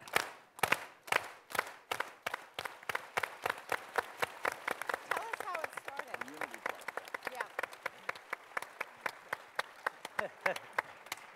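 A crowd performs the farm workers' unity clap in unison. Sharp, single claps start slowly and steadily speed up, with voices calling out partway through.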